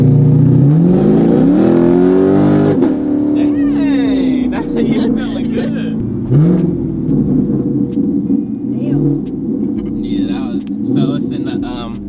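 A car engine accelerating hard in performance shift mode, revving and rising in pitch through gears with a loud, close rumble, while people talk over it.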